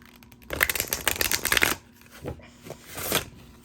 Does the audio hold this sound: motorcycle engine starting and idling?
no